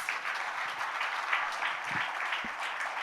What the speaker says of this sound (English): A little louder applause would be nice.